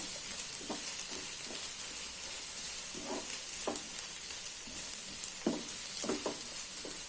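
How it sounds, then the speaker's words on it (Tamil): Capsicum with ginger garlic paste sautés in a pan for masala pasta, a faint continuous sizzle broken by scattered utensil knocks and stirring scrapes. "இப்போது இஞ்சி பூண்டு பேஸ்ட்டு, அப்புறம் குடமிளகாய், இது ஒரு 2 நிமிஷம் வதங்கணும்"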